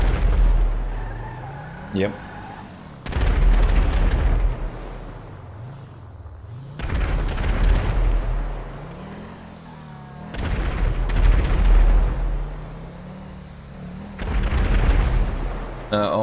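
Fireworks in GTA 5 at a pier on the Fourth of July burst in repeated deep booms, four big rumbling blasts spaced a few seconds apart, with a short spoken word in between.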